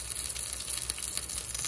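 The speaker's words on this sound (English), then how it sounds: "frying up fat trimmings" Beef fat trimmings fry in a pan with a steady, close crackling sizzle and scattered little pops throughout.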